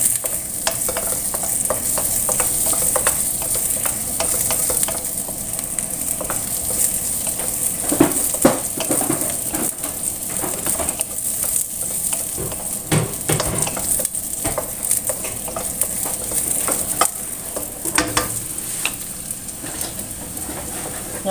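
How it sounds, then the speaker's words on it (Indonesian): Spice paste, shallots and garlic fry in hot oil until fragrant for chicken feet in yellow spice sauce, giving a steady close sizzle with intermittent stirring scrapes and clinks throughout. "Goreng bumbu, goreng bawang merah, bawang putihnya sampai benar-benar harum ya."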